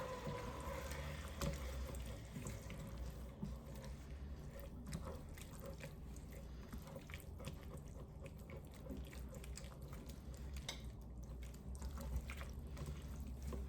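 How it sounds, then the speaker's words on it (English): Dry white wine poured into a hot pan for chicken fricassee, a soft steady liquid trickle and faint sizzle running throughout, quiet and close with no voices. "I'm gonna add a half cup of dry white wine."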